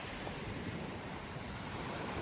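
Ocean surf on a beach at Playa Nanin in Sanxenxo, Galicia, Spain, a steady close roar of breaking waves with wind noise on the microphone, no voices.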